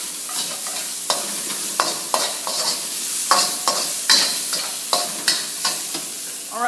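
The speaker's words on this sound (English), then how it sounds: "I will mix in the onion, garlic, and ginger mix. So this takes just a moment. We'll go ahead and stir those in now." Onion, garlic and ginger are stirred into rice frying in a pan, with a spatula scraping and tapping in a steady rhythm of close, sharp strokes over a constant sizzle. No one speaks.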